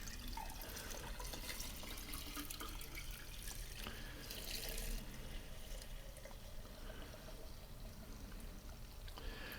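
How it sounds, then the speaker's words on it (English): Water poured into a Coffee Gator cold brew coffee maker over the grounds, a continuous soft trickling and splashing stream that runs steadily throughout, quiet and close with no talk. "we're just going to take some water here and we're going to pour it in"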